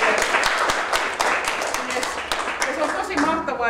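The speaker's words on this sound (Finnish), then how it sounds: "niin sille ensin aplodit." An audience at an evening of chindogu inventions claps, a thick, even patter of many hands that keeps going throughout, with a voice talking faintly underneath.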